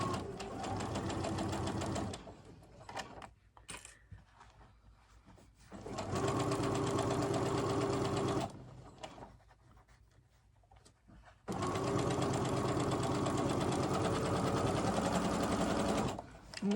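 A sewing machine stitches a fabric edge seam in three loud, steady bursts of rapid mechanical whirring, separated by quieter pauses with handling noises.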